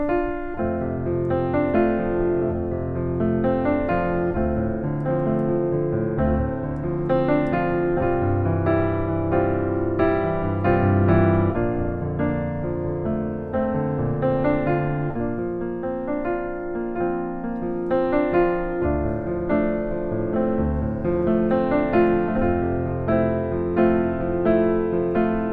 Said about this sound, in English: And if I was to play the original chords first to set the expectation, and then play them again with my set of chords